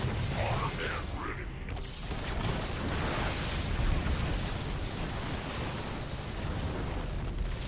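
Dense, continuous rumbling blasts from big cannons in a StarCraft II battle, a loud sustained roar of overlapping explosions filling the whole stretch.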